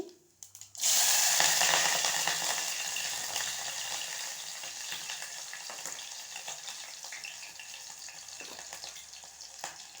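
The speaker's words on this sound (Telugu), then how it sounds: "ఆయిల్ వేడెక్కింది జీలకర్ర ఆవాలు వేస్తున్నాను" Cumin and mustard seeds hit hot oil and burst into a loud, sudden hiss that crackles and spits close up, then slowly settles into a steadier sizzle.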